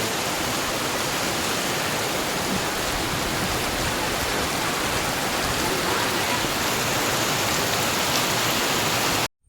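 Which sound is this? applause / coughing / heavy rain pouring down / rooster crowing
heavy rain pouring down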